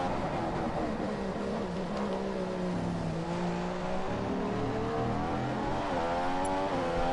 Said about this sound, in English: Just comment if you guys think the engine's too loud.